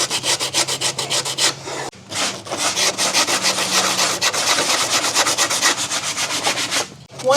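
A sanding block scrubs back and forth over wood in steady rapid strokes, pausing briefly twice before continuing.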